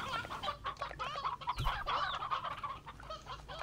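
Roosters and hens in the Slime Rancher video game cluck and squawk in a fairly quiet, busy chatter of overlapping calls, with one sharper crow-like burst near the middle.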